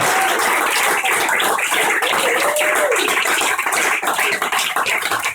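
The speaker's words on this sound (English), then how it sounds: "Can I have a massive round of applause for our comics?" An audience at an Edinburgh comedy show gives the comics a big round of applause, dense sustained clapping filling the room with a few cheers and a voice rising over it.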